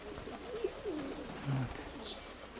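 Pigeons coo softly outdoors, a few low rounded calls rising and falling over about two seconds, fairly close, with faint background noise and no talk.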